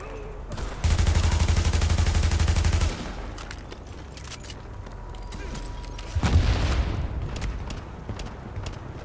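Shotgun blasts in the video game The Division, a dense, loud roar of gunfire lasting about two seconds, then a quieter stretch with scattered shots, followed by a second heavy burst that fades out.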